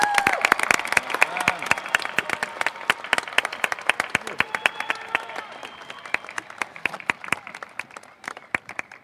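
An audience applauds at a college commencement, a dense crowd clapping continuously with some cheering, tapering slightly near the end.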